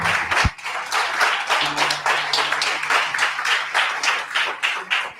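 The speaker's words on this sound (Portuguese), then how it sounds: "Dê um aplauso a Jesus." A church congregation applauds together during a sermon, steady dense clapping from a crowd that fills the room at a moderate level and holds throughout.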